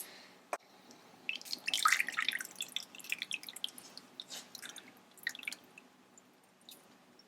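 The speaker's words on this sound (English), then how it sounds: "we are going to dump out all of these liquids inside into a bowl" Cooking liquid from oven-baked pork ribs pours into a bowl, a close trickle and splash that swells briefly, then breaks into scattered drips and small squishy sounds.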